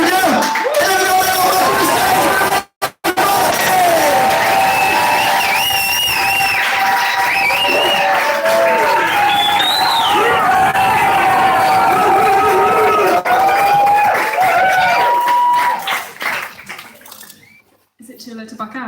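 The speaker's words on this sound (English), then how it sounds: "All right, all you need to do is cheer." A comedy show audience roars with loud cheering, whoops and whistles, a dense, sustained crowd noise that fades out near the end, with voices shouting throughout.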